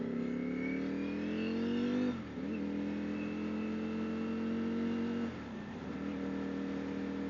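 A 2021 Ducati Streetfighter motorcycle engine cruising, a steady mellow droning hum heard from onboard, with two brief dips in pitch as the rider shifts, continuous and moderately quiet.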